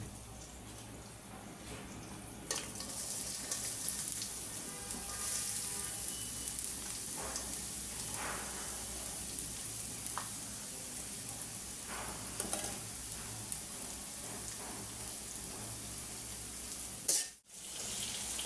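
Oil heating in a pan for a tilapia fish curry with tomato, a constant close sizzle and crackle lasting throughout, a brief clatter and gap near the end, no voices.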